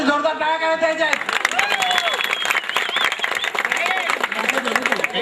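A crowd at a Raut family gathering claps for the women of the family, with applause running under an announcer's amplified voice and cheering.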